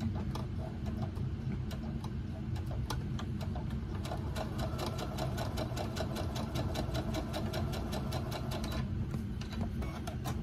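Sewing machine running steadily as it stitches a Love Notions Laundry Day tee in double brushed poly knit, a continuous fast mechanical whir with rapid rhythmic needle ticks, close and loud throughout.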